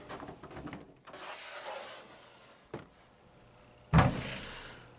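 A door in a shop is opened, with a wooden rub and creak, a short knock, then a louder thump as it swings open, close by in a quiet room.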